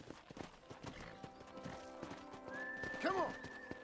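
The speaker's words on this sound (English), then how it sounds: "So just wait for Bonnie to get to her horse, and she should start the tour of the ranch." Horse in Red Dead Redemption clip-clopping at a walk on a ranch, a steady run of soft hoof beats that ends in a clear, close neigh near the finish, with faint background ambience.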